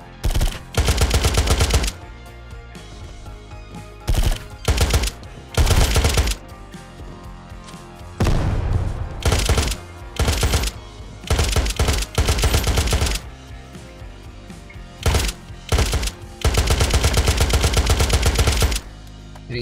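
Repeated bursts of automatic gunfire from the video game Unturned, a full magazine emptied in several long rapid volleys separated by short gaps, loud and close with no talking.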